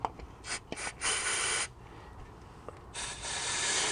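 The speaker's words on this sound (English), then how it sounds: "We forgot to clean out the caliper pin bores." Brief bursts of spray or rasping scrub while cleaning out the brake caliper pin bores on a BMW X3 E83 during a brake job, several short hissing bursts close up with quiet gaps between.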